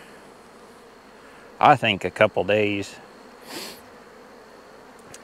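Honey bees buzzing around a hive during honey pulling with escape boards, a faint steady hum running beneath a man's brief speech, with a slightly louder pass shortly after he stops.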